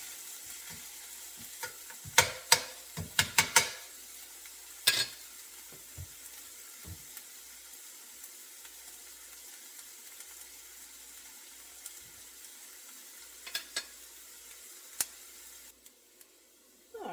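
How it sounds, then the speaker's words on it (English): White onion sautéing in a pan, a soft low sizzle in the background with clusters of sharp clacks and scrapes from stirring early on and again near the end, fairly quiet, with no voices. "So we'll start with the white onion, see how we do. Get that sauteed."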